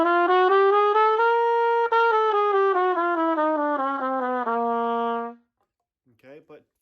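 A solo trumpet plays a full chromatic scale from C up to C, one clear sustained note after another in steady stepwise succession, loud and close, then stops into near silence.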